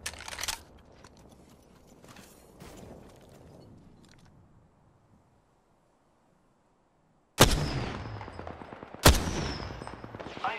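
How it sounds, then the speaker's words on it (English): Gunfire in Apex Legends: scattered distant shots and ambient game noise at first, then after a silent gap two loud, close bursts of shooting ring out. "I am taking fire, friends."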